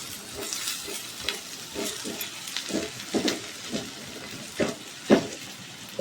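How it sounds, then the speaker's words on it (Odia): Onion, tomato and spices frying in a pan for baingan bharta, a steady close sizzle with repeated scraping stirs and occasional louder clatters of the spoon, no voices. "ପିଆଜ ଟମାଟୋ ସବୁ ମସଲା ଆମର ଭାଜି ହେଇଗଲାଣି।"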